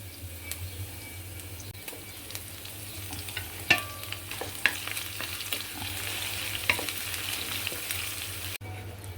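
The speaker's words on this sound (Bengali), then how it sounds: "এখন ফ্রাই প্যানে পেঁয়াজ দিয়ে দিলাম।" Onions frying in a frying pan make a soft continuous sizzle, with occasional sharp clicks and scrapes of stirring and a brief drop near the end.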